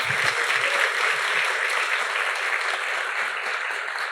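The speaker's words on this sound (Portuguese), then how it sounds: "Senhoras e senhores, palmas." A conference audience at a Brazilian theology event claps and cheers to welcome a speaker, a dense, sustained roar of applause that stays loud and fills the whole stretch.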